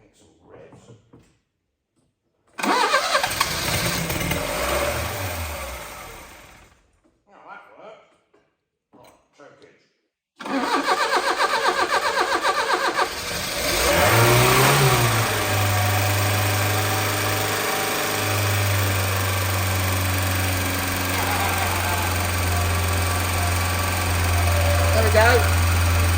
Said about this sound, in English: I'll try and give it some revs.